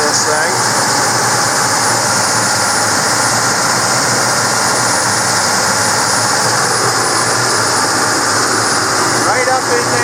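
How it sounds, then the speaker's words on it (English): A diesel engine running at a steady 1800 RPM during exhaust regeneration gives off a loud, constant broadband roar with a low rumble, holding unchanged for the whole stretch. "It's running at 1800 RPMs because that's what it does to do the regen."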